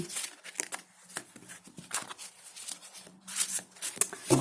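Tarot cards being shuffled and riffled close up, a series of quick papery flicks and snaps in irregular bursts.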